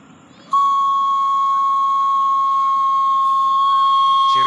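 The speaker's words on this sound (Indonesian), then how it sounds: "Ciri khas banget nih kue putu nih, bersiul sepanjang jalan, cetakannya di mana-mana pakai bambu." Steady high-pitched whistle from a bamboo kue putu steamer, an Indonesian street food cart, starting abruptly and holding a continuous piercing tone throughout, loud and close with faint background street noise.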